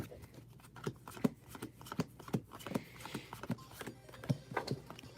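Pokemon trading cards are riffle-shuffled by hand, a close run of crisp slaps and flutters repeating in an uneven rhythm with no voices.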